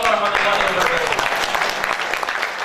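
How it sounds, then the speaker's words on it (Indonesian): An audience at an event applauds steadily for a few seconds, a dense even wash of clapping with a voice faintly audible underneath. "Berikan tepuk tangan yang paling meriah sekali lagi untuk Dewa Ekor Prayoga"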